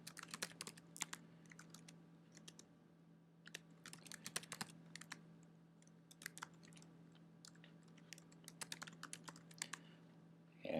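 Fingers tap out a username and password on a computer keyboard, quiet, close keystrokes in quick irregular bursts with short pauses, over a faint steady hum and no talk.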